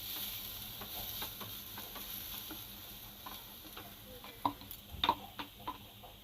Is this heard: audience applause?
no